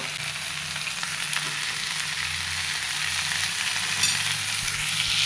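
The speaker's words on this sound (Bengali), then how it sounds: "লবণ হলুদ দিয়ে দিচ্ছি এবার কষাই নিব" Potatoes cooking with salt and turmeric in a hot pan give a steady, even sizzle with light stirring scrapes, continuous and close, with no voices.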